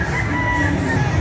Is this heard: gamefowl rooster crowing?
yes